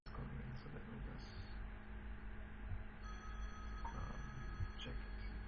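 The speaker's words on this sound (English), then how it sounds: "A repeated phone call is coming, so let me just" A phone rings with a repeated incoming call during a lecture, its steady electronic tone entering partway through over a constant low room hum.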